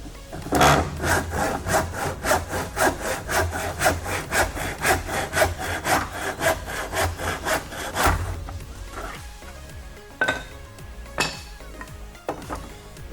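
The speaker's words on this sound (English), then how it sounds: "can also cut my stock using this inexpensive miter box that I've picked up from Harbor Freight" A hand saw cuts wood stock in an inexpensive Harbor Freight miter box. Fast, even back-and-forth strokes run loud and close for several seconds, then a few scattered knocks and scrapes follow.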